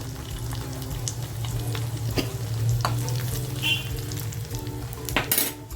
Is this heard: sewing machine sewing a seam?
no